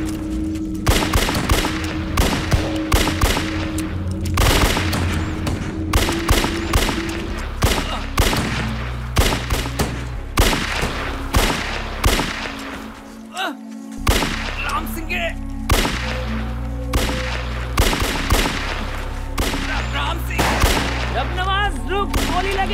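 Gunfire rattles through a Hindi film battle scene, with repeated loud sharp shots in irregular bursts and volleys close by, one brief pause midway, and shouting voices mixed in.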